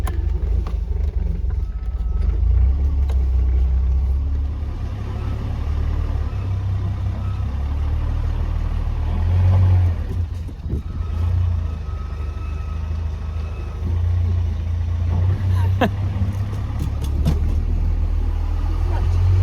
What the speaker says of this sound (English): Alan's taking Indy on his first convertible trip